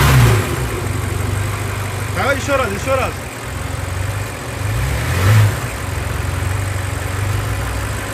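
Car engine revving in short bursts while held on the brake, as a check for a worn left engine mount; a steady loud idle rises and falls twice, with someone talking over it.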